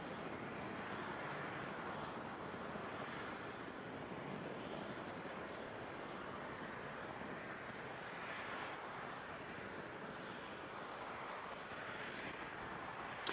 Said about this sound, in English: Vehicles pitching downrange as all 9 Merlin engines continue to perform well